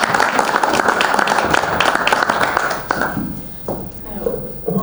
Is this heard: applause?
yes